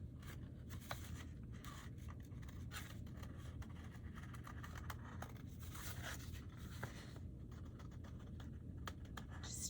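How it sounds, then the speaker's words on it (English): Sharp craft scissors snip and scrape through magazine paper for a mosaic craft, faint scattered clicks and rustles close by over a steady low hum, with no talking. "It helps to have sharp scissors, sharp craft scissors if you have them."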